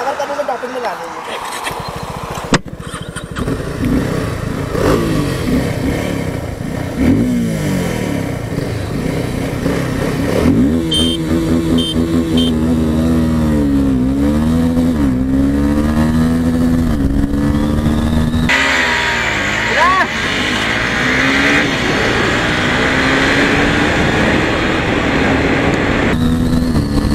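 A Honda CB300R and a Suzuki Gixxer SF250 race flat out on a highway, with loud sustained engine roar, rising and falling revs through gear changes and heavy wind rush, while a rider talks over the noise.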